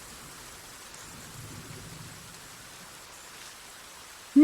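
Heavy rain pours down steadily in a thunderstorm, a soft even hiss with faint low rumbling of thunder, ending in a brief sharp noise.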